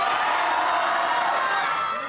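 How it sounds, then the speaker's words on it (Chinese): Children at a Ximending charity home for disadvantaged kids erupt in loud, continuous clapping and high-pitched screaming as a basketball star appears, a dense crowd roar sustained without pause before easing slightly at the end. "西门町梦想之家的孩子们掌声加尖叫"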